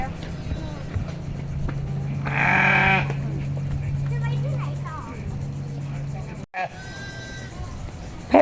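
Sheep bleating on a sheep farm, a few wavering bleats rising over a low steady engine hum and background chatter, with people talking nearby.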